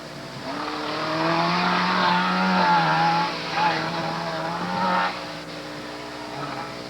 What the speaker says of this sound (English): Out on the course is the A-modified Honda Man Special of Mike Shannon.